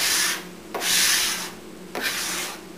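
A Hyde notched trowel spreading poured veneer glue across a panel, giving three close, rasping scraping strokes that rise and fade in a back-and-forth rhythm, with no one talking.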